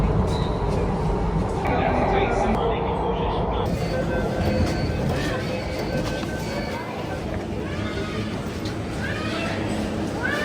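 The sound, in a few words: Delhi metro train arriving at platform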